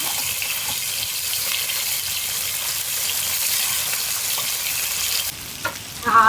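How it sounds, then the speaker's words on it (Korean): Marinated chicken galbi sizzles and crackles steadily in a hot oiled pan, close and moderately loud, ending with a brief clatter of stirring. "이게 튀기는 거야"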